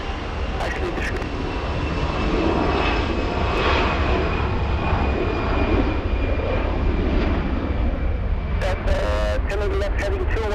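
A jet airliner taking off from runway 24 left at LAX, heard as a loud, steady engine roar that holds for about ten seconds, with air traffic control radio chatter mixed over it.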